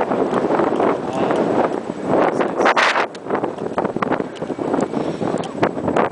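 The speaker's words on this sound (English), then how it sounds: "Windy." Strong wind buffets the microphone at a Boracay viewpoint, a constant loud rushing roar with gusty swells and rustling throughout.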